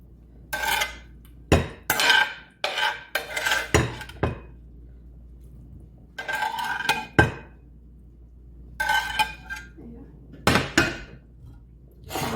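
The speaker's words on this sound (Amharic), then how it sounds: "አሁን ይሄን አውጣዋለሁ እዚህ ሳህን ላይ ዶሮ ማለት ነው" Metal utensils scrape and clink against a pot and plate in irregular bursts as cooked chicken is lifted onto a plate, with quiet pauses between the clatters.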